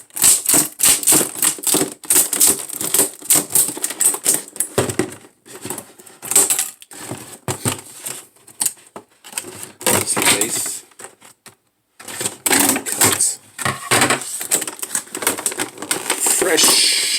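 Heavy-duty scissors snipping through plastic toy packaging up close, bursts of sharp crunching cuts and crinkling with short pauses in between, and a voice talking now and then.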